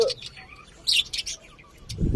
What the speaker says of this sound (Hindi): तो ये पैरट ऑस्ट्रेलियन पैरट है, जिसे अंग्रेजी में पैरट बोलते और उर्दू में तोते बोलते।